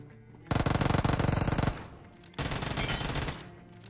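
Automatic gunfire in a battle royale video game, two loud, close rapid-fire bursts of over a second each, separated by a short pause, with no speech.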